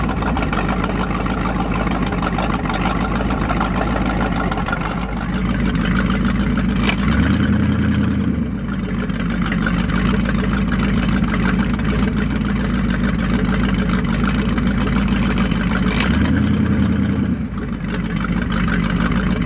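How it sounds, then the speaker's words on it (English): Race boat engine idling through its original exhaust tips, a steady deep low rumble that runs loud and unbroken for the whole stretch, with two brief heavier throbs in the lowest range. "Sound good with just those original exhaust tips,"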